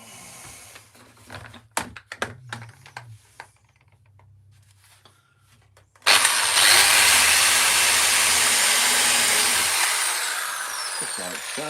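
Close, loud power drill bores into glued wood, its steady whine running several seconds after scattered knocks and handling noises, easing slightly toward the end.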